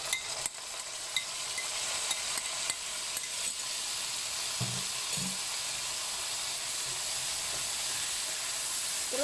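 A blended spice paste for Singapore Malay-style soy sauce chicken sizzles steadily in hot oil, a close, constant frying hiss with occasional stirring scrapes and no talking.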